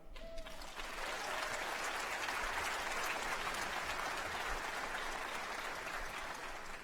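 Sustained audience applause fills a hall at the University of New Brunswick's 190th Encaenia graduation ceremony, rising quickly and holding as a dense, steady wash of many clapping hands with no voices on top.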